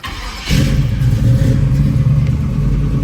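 A 1967 Chevrolet Camaro engine catches after a short crank and settles into a loud, steady rumbling idle with slight revving, heard close and alone.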